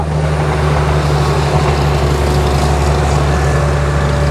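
A boat passes along the water in a seaside village after rain, a steady low engine drone holding at constant loudness throughout, with no talk.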